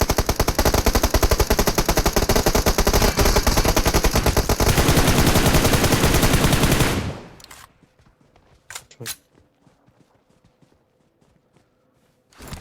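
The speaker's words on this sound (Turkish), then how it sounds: "silah sesi geliyor." Rapid automatic gunfire in PUBG Mobile rattles loudly for several seconds, then cuts off, followed by a few isolated distant shots in near silence.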